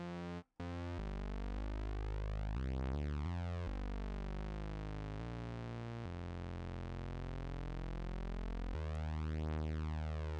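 Synthesizer single notes ring out one after another, each a bright harmonic tone with sliding pitch sweeps, loud and steady with brief decays between notes.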